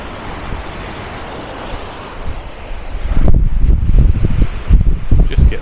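Waves wash onto a small hidden beach at Armação de Pêra in Portugal's Algarve, starting as a soft wind-blown hiss and then swelling into louder, close surf rushes over the final seconds.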